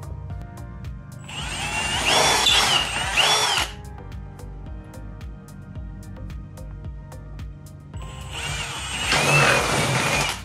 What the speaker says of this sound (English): Now I'll come back with the largest drill bit I have that's at least sharp anyway. This is a 3/8.